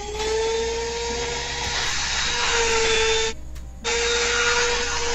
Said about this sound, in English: It's his mid-sentence Dremel, you see.